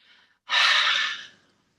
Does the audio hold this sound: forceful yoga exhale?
yes